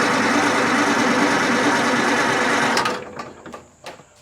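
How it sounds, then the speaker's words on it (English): A Detroit Diesel sawmill engine at a county fair cranks on the starter, a loud continuous churning whir held close for nearly three seconds before cutting off, followed by a few faint clicks and knocks. "Let me crank it for another second."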